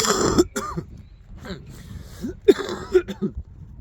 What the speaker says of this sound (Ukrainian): слухати, як я кашлю